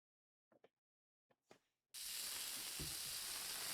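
After a few faint knocks, a loud, steady sizzling hiss starts abruptly and keeps going without a break.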